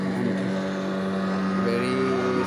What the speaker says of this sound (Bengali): This is speed boat, this goes to Bhola two Barishal.